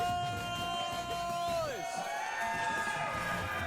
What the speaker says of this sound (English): I love to hear the crowd lighting up for Leo and Sonix.